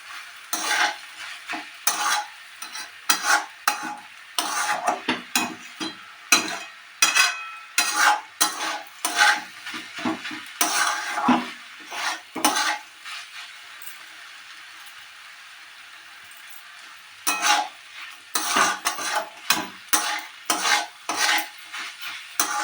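Spoon stirring mashed bean bhorta in a pan, making repeated scraping strokes in irregular bursts, close up, with a short quiet pause partway through and no voices.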